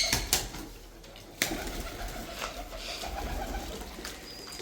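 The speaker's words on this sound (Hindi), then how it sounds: "और ये कमरे वाले कबूतर।" Pigeons coo in a breeding room, a soft low cooing that continues steadily at close range with a few sharper knocks and rustles.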